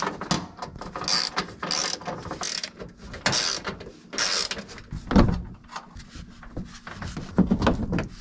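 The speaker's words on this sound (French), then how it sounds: "Il nous reste ensuite les 3 grosses vis à déposer là, c'est du Torx de 45." A ratchet works loose the large Torx 45 screws holding the undertray beneath a 1.0 TSI car engine, giving repeated bursts of close, rapid clicking separated by short pauses.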